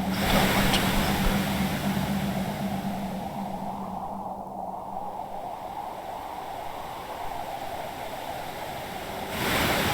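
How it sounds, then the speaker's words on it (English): Waves beating against the shore in the video game The Orchard of Stray Sheep, a continuous loud, broad roar of surf that barely varies, swelling slightly at the very end, with no voices. "The waves would not cease beating against the shore."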